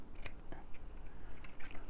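Scissors snip paper while a junk journal page is trimmed, a few quick close crisp cuts over a soft background hiss.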